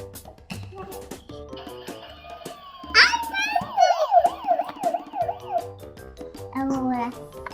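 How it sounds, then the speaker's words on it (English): A small toy fire truck siren wails in a quick rising and falling pattern for a few seconds, close by, with a voice and clicking around it. "Turn it on, the fire truck."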